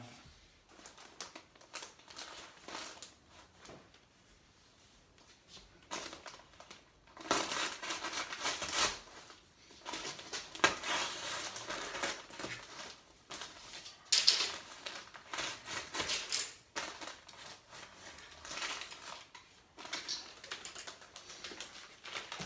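Insulation is cut from a roll for a partition wall, producing close, soft crunching and rasping in uneven bursts that grow louder midway, with quieter pauses between strokes.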